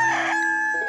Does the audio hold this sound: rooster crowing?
yes